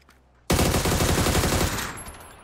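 A sudden loud burst of first-person shooter gunfire erupting after a quiet moment, a dense rattling automatic volley that gradually tapers off.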